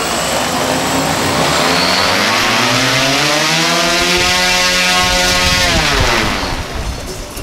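Giant motors and propellers on a DIY electric ultralight aircraft throttle up from a low whine to a loud, rising, steady drone with many pitched harmonics, holding at full power before easing off near the end.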